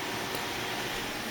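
A QQ Plexi desktop PC hums steadily, its computer fans and power supply giving a smooth, even broadband whoosh without breaks.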